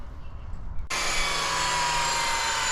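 A saw cutting concrete paver blocks for a pool patio starts abruptly after a quiet moment, then holds a loud, steady high-pitched whine up close.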